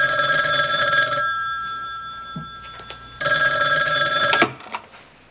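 Telephone bell rings loudly in two bursts with a pause between, indoors in a home; after the second ring it cuts off as the call is answered.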